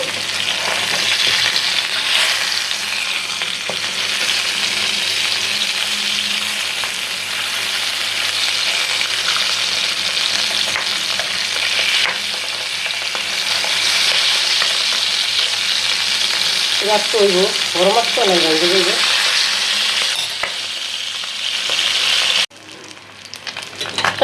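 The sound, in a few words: pabda fish frying in oil in a pan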